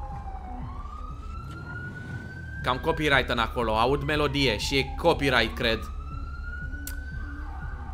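A police siren wails in a GTA FiveM game, its rising tones sweeping up twice at a moderate level, while someone talks over the middle stretch.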